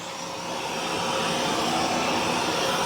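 A Narwal Flow robot vacuum cleaner runs in vacuum-only mode with a steady, close, rushing whir that swells slightly in the first half-second, then holds even and loud with no speech.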